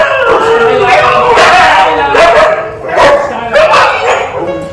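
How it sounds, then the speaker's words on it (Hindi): Pet Siberian husky dogs bark, yip and whimper in excited welcome, with repeated close, loud barks continuing throughout. "सभी डॉग अपने मालिक के स्वागत में आवाजें निकालने लगते हैं।"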